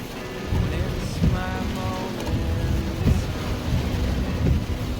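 Steady rain patters around a car at Huntsville State Park, with a constant wash of drops and occasional louder thumps, heard close and continuous.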